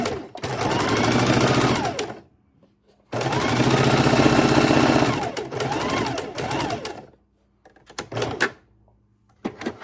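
A sewing machine stitches a wallet keychain purse in two long, loud, steady runs, then a few short bursts as the needle stops and the fabric pivots at corners.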